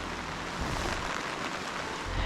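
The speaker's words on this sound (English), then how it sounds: "it's storming and I'm in the rain" Heavy rain pours down steadily during a storm at a wilderness campsite in Jamaica, a dense, even hiss with a low rumble underneath, close and unbroken.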